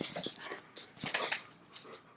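A pet dog whimpers and whines indoors in a room, several short high-pitched whines and wheezy breaths in uneven bursts, close and fairly clear, with no talk.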